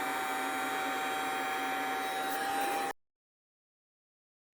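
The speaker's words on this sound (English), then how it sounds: "I have here a heat gun, which I use for soldering. But I can also use it to slightly soften up this paint around here." A soldering heat gun blows hot air to soften paint on a guitar body: a steady, loud, hissing whoosh with a faint whine runs for about three seconds, then cuts off abruptly into silence.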